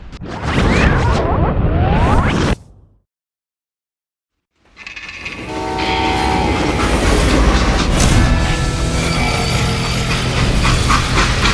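Freight train rolling along rails in the Western shooter Call of Juarez: Gunslinger, a steady loud rumble with clattering wheels that cuts out briefly to silence, then resumes with metallic screeching and clanking tones.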